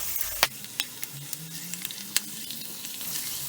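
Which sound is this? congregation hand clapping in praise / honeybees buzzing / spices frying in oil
spices frying in oil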